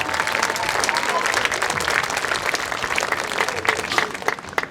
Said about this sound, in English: let's give all of our Piqua City Schools Administration a big round of applause